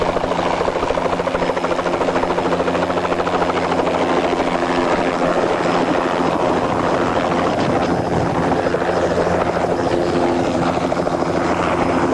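Steady, loud helicopter rotor and engine drone on a helicopter pad, running continuously throughout, with a broadband wash of noise and no voices.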